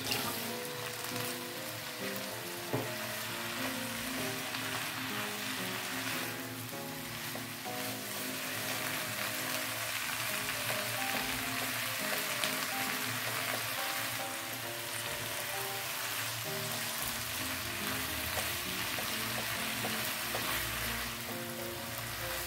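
Salted mustard greens and egg stir-fried in a pan over raised heat, a steady, dense sizzle that holds without a break, with occasional stirring scrapes and no talking.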